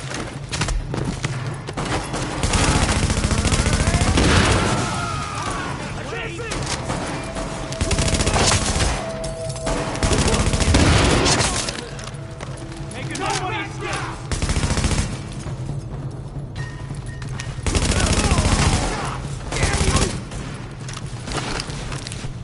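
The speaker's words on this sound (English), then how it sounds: "The escort party's taking heavy fire from the roof." Heavy gunfire from a rooftop gunner at Madison Field Hospital in The Division rattles in repeated bursts and volleys, loud and dense, with booming impacts and occasional voices mixed in.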